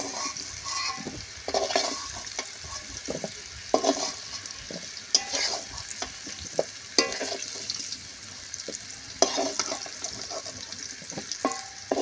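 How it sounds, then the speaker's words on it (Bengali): Potatoes fry in a pan with a continuous sizzle, while a utensil stirs and scrapes them in repeated bursts throughout. "ততক্ষণে আলুটাও ভাজছিলাম"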